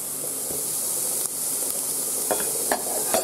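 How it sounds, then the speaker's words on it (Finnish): Eggs boiling in a pot on the stove give a steady, fairly loud hiss with occasional small clinks and pops as the water bubbles. "Munat kiehuu."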